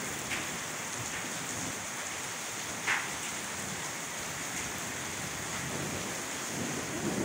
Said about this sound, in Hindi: बादल गरज रहे हैं जी।